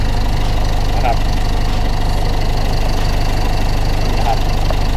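A tuned 1.9 single-turbo car engine with an aftermarket exhaust idles loudly and close up, with a lumpy, rumbling rhythm that holds steady throughout.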